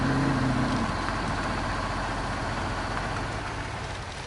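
Road truck engine idling in the Spintires Mudrunner video game, a steady low rumbling drone with a faint hum on top, continuous and unchanging, slowly easing in level.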